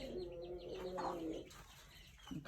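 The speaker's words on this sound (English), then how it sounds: "There's Mama Chicken." A mother hen clucks softly and low, a few murmuring calls nearby followed by quieter rustling.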